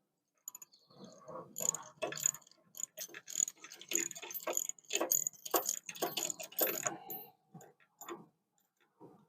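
Bolts on a child's swing being tightened with a ratchet, a run of close, crisp clicking bursts with short pauses between strokes, no talking.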